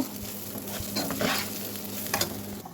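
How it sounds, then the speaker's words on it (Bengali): Rice is stirred and fried in a pot while preparing polao, a close sizzle broken by scraping, rustling strokes of the spoon through the grains, no voices. "চালটা একটু ভাজা ভাজা করে নেব"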